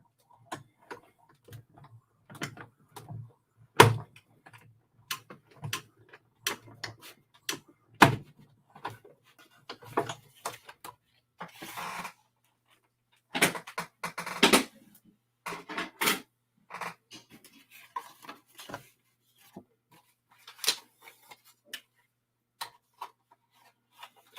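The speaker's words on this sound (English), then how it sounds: "And now we're going to die cut the other." Card stock passing through a manual die cutting machine for a handmade card, heard as a long run of sharp, close ticks and clicks at an irregular rhythm with brief pauses.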